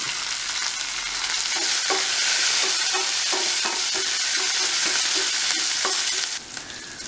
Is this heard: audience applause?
no